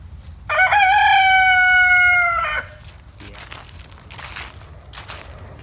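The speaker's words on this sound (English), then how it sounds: "Good rooster." A rooster crows once, loud and close, a clear two-second cock-a-doodle-doo over a farmyard background, followed by rustling and crunching underfoot among scattered walnuts.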